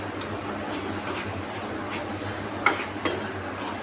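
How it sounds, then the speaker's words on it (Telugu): Turmeric stirred into hot frying oil for a tomato egg curry, a soft steady sizzle with light spoon scrapes and two sharper clinks against the pan near the end. "ఇలా పసుపుని యాడ్ చేసేసుకొని కలిపేసుకోవాలి."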